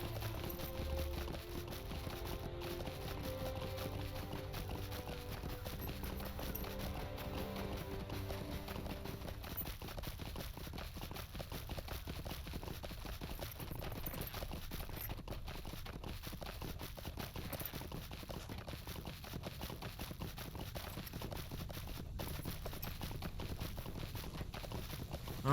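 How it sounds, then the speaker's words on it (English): Steady clip-clop of a horse's hooves while riding in the Lord of the Rings Online game, a continuous even walking rhythm throughout with game music and ambience underneath. "So much easier to control this horse than the war steed."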